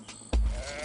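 A sheep on grazing pasture gives a single short bleat, fairly close and clear over a low background rumble, its wavering tone trailing off within a second.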